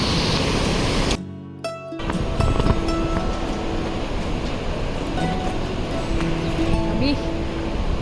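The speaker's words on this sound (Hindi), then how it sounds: "और ये बह रही है पार्वती नदी" Parvati river rushing past Manikaran Sahib gurudwara in Himachal, a steady broadband roar of flowing water running throughout, briefly dipping near the start, with faint tonal background sounds.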